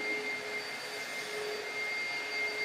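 A vacuum cleaner runs steadily with a constant airy whine and hum, moderately close, with no pauses or talk.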